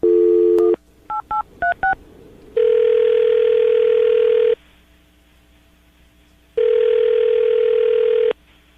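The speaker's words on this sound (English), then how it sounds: "we're about to dial the phone number right now" Telephone keypad tones beep in a quick run of short dialing bursts, then a loud steady ringback tone sounds in two long pulses separated by a quiet gap.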